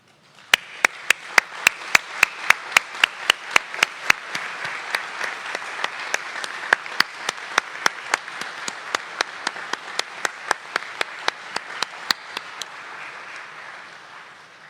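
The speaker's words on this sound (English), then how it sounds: "stand now and give yourselves a really big round of applause" Graduates and guests at a university graduation ceremony stand and applaud, a long, dense round of clapping that carries evenly for about fifteen seconds, punctuated by sharp loud claps and whoops close by, with no talking.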